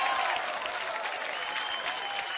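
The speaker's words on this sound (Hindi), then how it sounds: "इनके लिए जोरदार तालियां हो जाए" An award show audience bursts into full, dense applause, a continuous roar of clapping from a large crowd.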